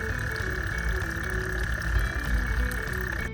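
Frogs croak at a backyard pool pond in a dense, steady chorus, with one loud sustained trill running throughout and lower croaks layered underneath, fairly close and continuous.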